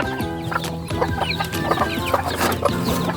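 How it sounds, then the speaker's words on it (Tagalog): Chicks and chickens peep and cluck continuously at close range, high rapid chirps layered over lower hen clucks, a busy unbroken flock chorus with no talking. "marami po tayo sisiyo ngayon"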